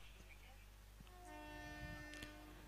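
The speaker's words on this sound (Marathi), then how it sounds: "चला ट्रेननी सिग्नल दिलंय" A train sounds its horn near a cricket ground during a Holi tournament match, sustaining a long steady chord over distant background noise. Faint voices are heard.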